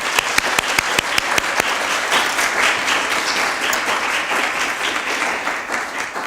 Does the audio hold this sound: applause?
yes